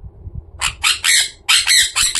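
A pet parrot squawking in its cage, a run of five or six loud, harsh, close screeches in quick succession after a quiet start.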